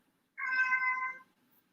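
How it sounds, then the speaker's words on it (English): A cat gives a single clear meow, a short mid-pitched drawn-out call heard close and alone in an otherwise quiet room. "you heard the cat"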